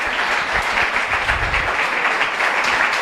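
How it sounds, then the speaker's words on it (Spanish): A church congregation breaks into sustained applause, a dense, even wash of many hands clapping together that holds steady throughout. "Denle aplauso al Señor"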